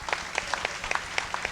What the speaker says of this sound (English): So I would like to personally thank them and give them a round of applause.